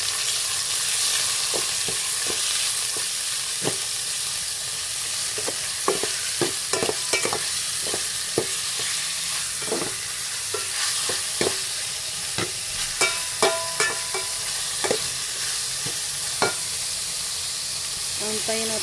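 Pork frying in a pan for pansit bato, a steady loud sizzle with scattered pops and scraping stirs of the utensil against the pan throughout, close up.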